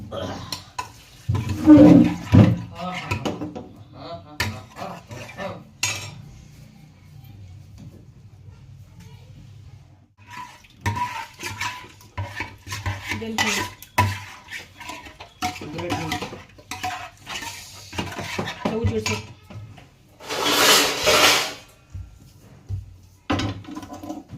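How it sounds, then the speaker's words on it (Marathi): Spoon scrapes and clinks in a pan while someone talks, then a brief loud sizzle bursts out as spices such as curry leaves and garlic hit hot oil for tempering. "चला फोडणी देऊन घेते"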